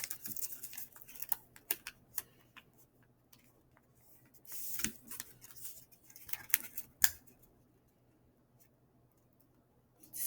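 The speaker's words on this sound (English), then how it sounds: "all four are going to fold right over into this point" Paper is creased and folded by hand while making a paper fortune teller, heard as quiet, sporadic crinkles and crisp taps that come and go over a faint steady background hum.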